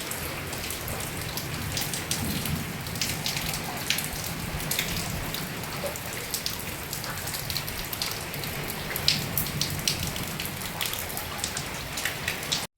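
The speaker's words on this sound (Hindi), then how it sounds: "बारिश की रिमझिम" Steady rain falls throughout, a dense patter of drops hitting surfaces at close range, with no voices.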